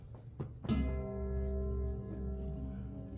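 A single bronze handbell tuned to C2 struck once, its clear low ringing tone sustaining and slowly fading over a few seconds, close and alone.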